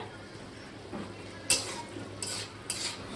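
Fish frying in a pan with grated ginger, a soft steady sizzle with a few sharp clatters of a utensil stirring against the pan, fairly quiet and close with no talk.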